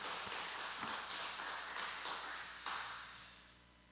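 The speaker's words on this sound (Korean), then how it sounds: "박수로 격려 한번 하십시다" A church congregation claps in encouragement, a steady wash of many hands that stays broad and moderately distant before tapering off toward the end.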